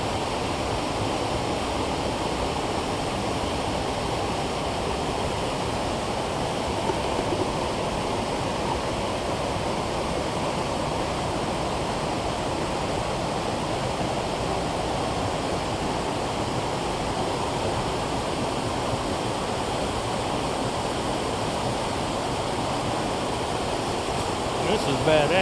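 Pony Creek flows steadily under a rhododendron, a broad, even rush of water that stays constant and close throughout with no break.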